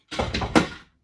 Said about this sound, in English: that was the cat knocking things off in the kitchen